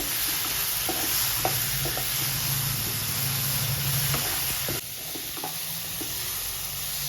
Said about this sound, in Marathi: आता मी मिक्स करून घेते